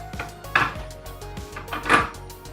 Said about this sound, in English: I remove this foil and put the coffee into like a bowl